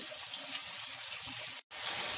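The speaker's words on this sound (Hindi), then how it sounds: "आलू को हम 5 मिनट के लिए फ्राई कर लेंगे हाई फ्लेम पे" Potato slices for aloo katli fry in a pan over a high flame, giving a steady, close broadband sizzle that drops out for a moment before resuming just as strongly.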